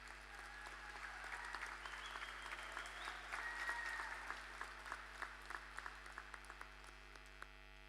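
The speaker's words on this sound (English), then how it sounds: "Please give yourselves a round of applause." Graduates applaud themselves at a graduation ceremony, a sustained crowd clapping heard at a distance in a large venue, thinning into scattered individual claps toward the end over a faint electrical hum.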